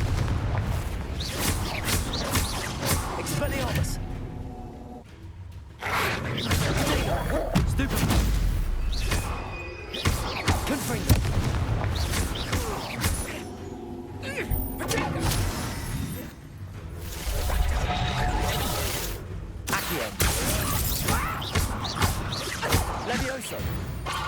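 Confringo explosion spells in Hogwarts Legacy, repeated booming blasts, crashes and whooshes in bursts amid busy game combat noise, with spell names called out over the action.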